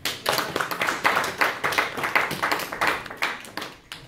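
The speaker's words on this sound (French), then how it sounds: "Acclamons pour Jésus." A church congregation claps together in praise, producing a loud, steady run of sharp, rhythmic hand claps at a brisk, regular pace, with no voices standing out.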